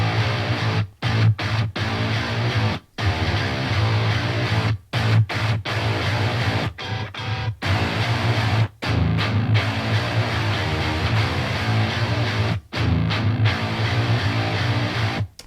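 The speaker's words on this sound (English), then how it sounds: "So it's 5 total guitar tracks there in that breakdown." A dense metal breakdown built from five stacked heavy guitar tracks with a traditional metal tone, loud and sustained, with chugging riffs broken by sharp, repeated stops and full mix behind them.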